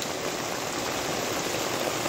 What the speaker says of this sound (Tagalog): Umuulan dito. Biglang lakas ng ulan.